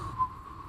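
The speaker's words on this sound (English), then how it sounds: "Sebastian, stop whistling" A child whistles badly, holding a thin, wavering single tone that sits faintly over low room rumble and breaks off briefly.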